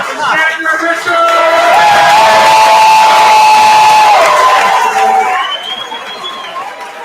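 A live comedy club audience in Sarasota claps and cheers for a comedian, loud continuous applause with whoops that tapers off near the end while a host's voice speaks over it.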